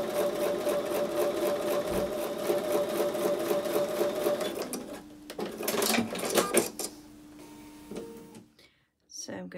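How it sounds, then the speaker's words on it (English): A sewing machine stitches quilt fabric with a quarter-inch seam in a fast, steady run of needle strokes, then stops and starts in shorter bursts before falling silent. A voice talks over part of it. "We're going to go back over to the sewing machine and sew with a 1/4 inch seam"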